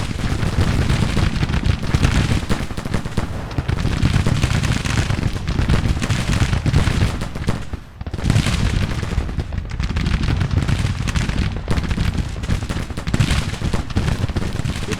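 Continuous massed musket and cannon fire in a Civil War battle at St. Louis Ferry from Grand Tactician: The Civil War, a loud, dense roar of overlapping volleys with a short dip near the middle.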